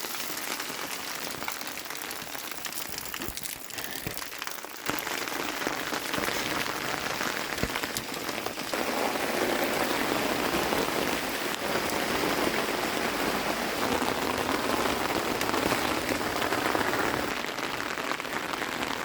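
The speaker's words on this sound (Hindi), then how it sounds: "इतनी तेज़ बारिश हो रही है" Heavy rain pours steadily in a mountain village, a dense continuous hiss of drops striking roofs and ground, growing slightly louder after the first few seconds and continuing without a break, with no talking.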